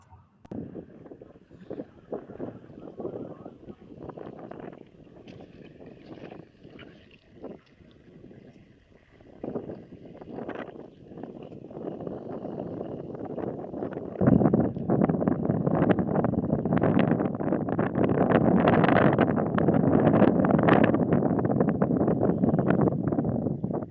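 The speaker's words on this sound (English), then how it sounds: "Now, it's quite windy in the background" Outdoor wind blowing at a drinking water source site after heavy rainfall, gusting unevenly at first and then becoming a strong, steady roar against the microphone in the second half.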